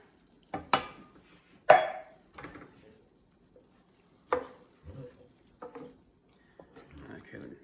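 Diced tinned tomatoes are stirred into a frying pan in scattered wet scrapes and clinks of a spoon against the pan, separated by quiet gaps.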